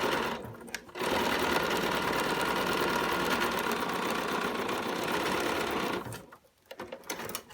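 A sewing machine runs a 2.5 mm straight stitch through denim pocket pieces, starting abruptly into a fast, steady mechanical whir that holds for about five seconds before stopping, with brief quieter handling noises before and after.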